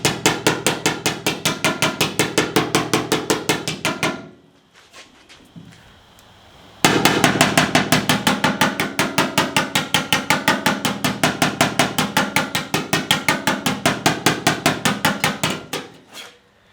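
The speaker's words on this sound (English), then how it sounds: "you take your hammer, and you're going to go around and knock the high spots down." Rapid, steady hammer blows knocking down the high spots on dented sheet metal, loud and close, with a short pause partway through before the even hammering resumes.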